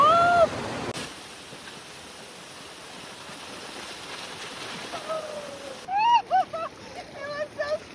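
A strong, cold river rushes along a trail toward Nakuru Falls near Arusha, Tanzania, as a steady, dense roar of flowing water. Birds chirp briefly near the start and again over the last two seconds.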